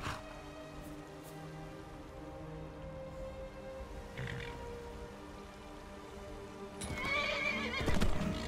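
A horse in Skyrim Special Edition on Xbox One snorts and neighs, then its hooves clop loudly near the end against a soft background of rain, with no voices.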